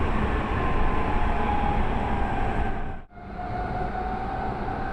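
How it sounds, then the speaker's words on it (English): A local train on the Hanshin Main Line, heard from inside as a loud, steady rolling roar of wheels and motor that briefly dips before resuming. "The local train is running on the Hanshin Main Line."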